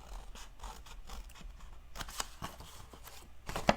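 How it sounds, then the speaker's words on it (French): Scissors cut along the fold of a sheet of paper for a gift bag, a series of short crisp snips and slicing scrapes, close and fairly quiet, with one sharper cut near the end. "je viens couper directement sur le pli"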